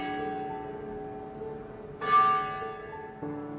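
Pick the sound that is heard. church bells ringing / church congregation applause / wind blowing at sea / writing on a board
church bells ringing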